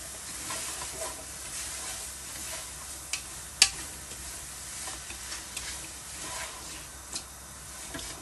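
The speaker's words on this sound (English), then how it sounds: "So we continue stir frying." Sweet potato mash with turmeric, garlic and ginger being stir fried in a pan: a steady low sizzle with scattered spoon scrapes and clinks, one sharper knock partway through, no talking.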